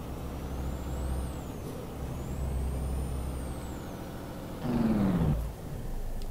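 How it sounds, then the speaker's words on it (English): A Volvo F10 Globetrotter truck in Euro Truck Simulator 2 rumbles steadily, then gives a short, louder hiss and whine burst near the end; there is no talking. "That sounds like one of the American trucks that I've recently driven."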